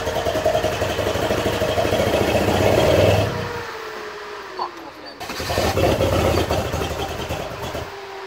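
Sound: car engine starting and revving

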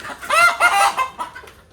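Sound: chicken clucking

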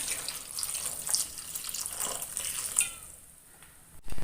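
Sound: water poured into cooking pot

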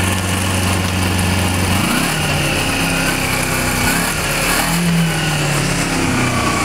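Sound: Kawasaki Ninja EX250 motorcycle engine shifting up through gears

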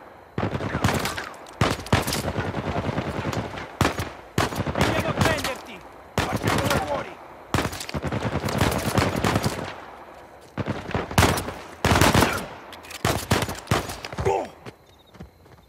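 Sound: gunfire shooting at the player in the video game Uncharted 4

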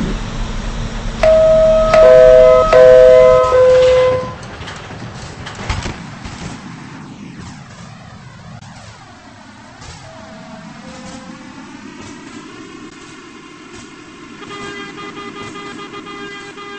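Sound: express train arriving, from a video game

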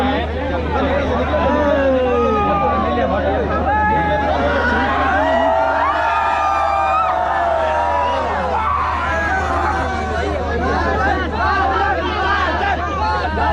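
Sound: crowd gathered to take photos with a DJ

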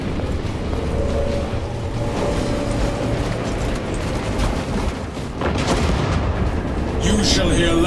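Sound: cannon fire in a video game

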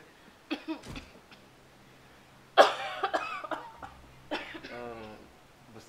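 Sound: cough

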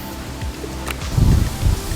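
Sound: strong wind blowing

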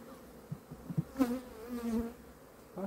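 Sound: bees on a beehive frame

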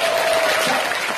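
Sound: singing class audience applause

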